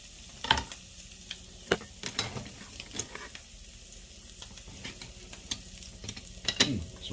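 Garlic sizzles softly in a pan over lowered heat while cooking for keto Tuscan chicken. A spoon stirs it with sharp, irregular clacks and scrapes against the pan. No one speaks.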